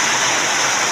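Heavy rain pours down steadily, a dense, loud, continuous hiss with no breaks and no voices.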